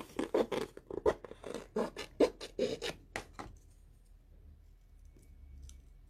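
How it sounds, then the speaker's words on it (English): Scissors snip through paper to cut out a letter V, a quick run of close, crisp cuts and rustles that stops partway, leaving quiet room tone. "I'm going to cut the V now"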